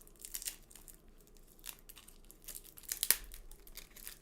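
Plastic wrapping being peeled off a card game package, producing soft intermittent crinkles and tearing sounds up close, with one sharper rip near the end.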